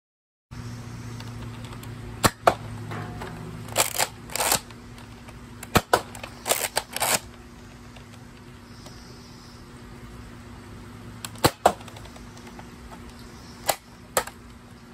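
Explosive bullets fire in a video game as scattered sharp shots and short bursts, sometimes paired or grouped, over a low steady electronic hum, with quieter gaps between the volleys.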